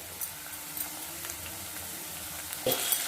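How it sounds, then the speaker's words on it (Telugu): Gobi manchurian, cauliflower in a spicy tomato and red chilli sauce, fries and is stirred in a pan, giving a steady, faint sizzle with soft scraping. A slightly louder stir or clatter comes near the end. "బాగా మిక్స్ చేసుకుంటాం, కొంచెంసేపు వేపుకుంటాం."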